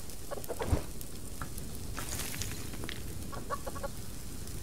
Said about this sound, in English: let's give chickens some food